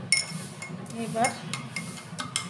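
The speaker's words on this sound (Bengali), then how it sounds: "চামচ দিয়ে ভালো করে চিনিটা গলিয়ে নেব।" A spoon stirs sugar into raw mango juice, giving a few light clinks and scrapes against the glass or bowl over soft background noise, with no talking.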